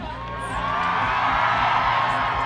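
A crowd at a BYU rugby match against Saint Mary's cheers and whoops to pick a winner, with loud, sustained yelling and shrieks from many voices throughout.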